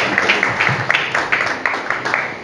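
A church congregation applauds a preacher at an evangelical service, a dense wash of many hands clapping in a steady, slightly rhythmic pulse, moderately loud and filling the room without any voices on top.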